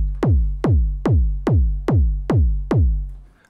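Heavy techno kick drum, seven booming hits in an even four-on-the-floor pulse, each with a sharp attack and a deep, decaying low tail, played alone and loud.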